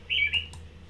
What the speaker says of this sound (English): So the robins are going to start singing in March